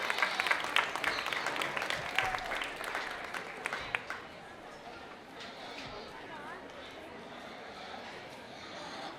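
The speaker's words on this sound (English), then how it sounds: "Let's give our sponsors a big round of applause for supporting these kids today." Crowd applause for sponsors at a farm and food show with FFA youth class winners, a brief round of clapping that fades after a few seconds into general crowd chatter and background murmur.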